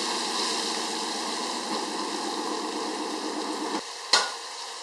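Green chili and garlic cloves stir-frying in a wok, a steady close sizzle with constant scraping and stirring throughout, broken by a short sharp clank of the spatula near the end.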